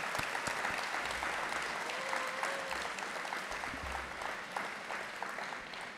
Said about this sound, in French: Et qu'on les applaudisse.